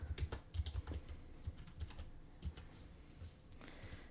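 Fingers tap out text on a computer keyboard in quick, uneven bursts of close, soft clicks, with short pauses between runs of keystrokes.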